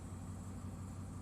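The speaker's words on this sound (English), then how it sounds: "The engine is running right now." A turbocharged Caterpillar 3208 diesel of about 270 horsepower runs in a 1984 Blue Bird Wanderlodge motorhome, giving a steady, low idling drone heard alone and fairly faint.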